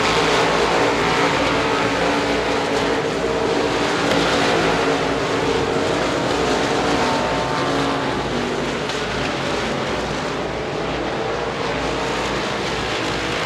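Modified race cars in a USA Limited Modifieds race at Devils Bowl Speedway make a loud, continuous engine roar that stays dense and unbroken across the whole stretch.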